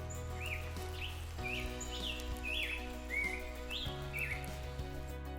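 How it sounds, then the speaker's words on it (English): A black-headed grosbeak, a migrant songbird, sings a rich warbling series of short rising and falling phrases at moderate distance over a low steady background hum. "one of my favorite migrant birds, the black-headed grosbeak"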